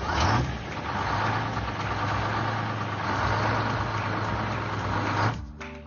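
Excavator engine in a children's cartoon, a steady mid-pitched idling rumble with a sustained low hum that holds evenly for about five seconds before ending abruptly.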